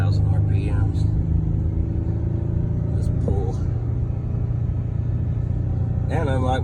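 A 2019 Ford F-150 with a 3.3 V6 tows up a steep hill at about 3,000 RPM, giving a low, steady engine drone with voices talking over it.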